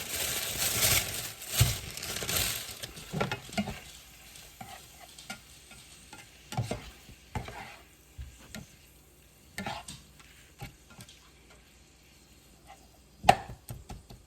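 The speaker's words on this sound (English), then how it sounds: "just going through and chopping up the meat some more and the mushroom." Cheesesteak meat and mushrooms are chopped and stirred on a hot surface, giving irregular scraping and tapping hits over a low sizzle that is louder at the start, with occasional sharp knocks and no talking.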